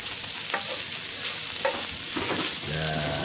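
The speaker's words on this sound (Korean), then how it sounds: "밥 볶는 소리" Fried rice with lettuce and sesame oil sizzling and being stirred in a hot pan after Kimchi pork belly, with steady frying crackle and scraping strokes of a spatula, close up.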